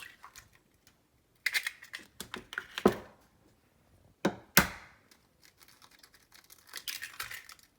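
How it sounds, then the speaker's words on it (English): Pasture-raised eggs are cracked into a bowl for brownie batter, heard as sharp close taps and cracks in a few separate bursts, with light clicks and shell sounds between them and no talk. "So I'm going to crack 4 eggs into another bowl."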